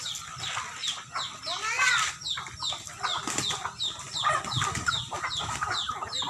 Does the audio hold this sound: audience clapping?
no